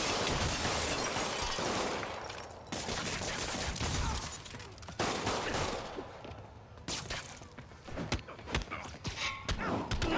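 Thugs open fire in Marvel's Spider-Man game, a dense continuous fusillade of gunshots with thuds and shattering impacts running for the full ten seconds, loud and chaotic.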